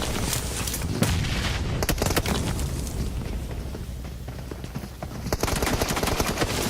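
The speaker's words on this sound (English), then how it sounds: "Spams the shots into the loot crate, adds insult to injury" Gunshots in PUBG Mobile during an esports tournament match, with dense crackling rapid fire and scattered sharper shots over a loud, busy crowd and arena background.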